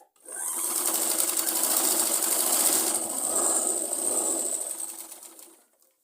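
A sewing machine runs steadily for about five seconds, stitching the sleeve and armhole of a Punjabi suit with a continuous close whir that fades out at the end.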